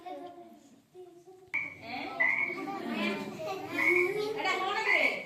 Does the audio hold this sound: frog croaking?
yes